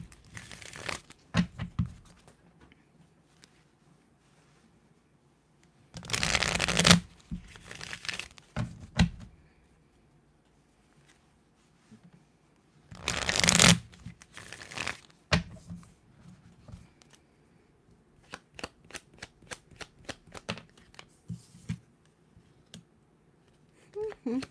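Tarot cards shuffled by hand in two short crisp riffling bursts, with lighter card handling clicks and rustles scattered between them, close and fairly quiet.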